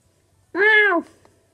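A Meowth meows once in the Pokémon Moon video game, a single clear, close meow rising then falling, followed by a faint trailing sound.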